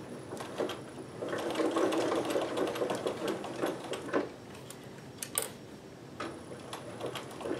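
Sewing machine fitted with a wide zigzag foot, stitching in a steady fast mechanical ticking rhythm, fairly quiet and close, running continuously with small clicks and handling noises.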